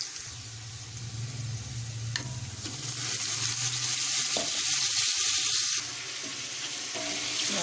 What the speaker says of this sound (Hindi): बिरयानी का प्याज मैंने हल्का सा ब्राउन कर दिया, और इसमें मैं डालूंगी लहसुन अदरक का पेस्ट।